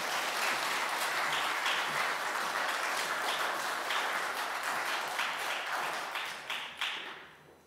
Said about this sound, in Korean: 우리 목사님 환영의 박수 함께 하겠습니다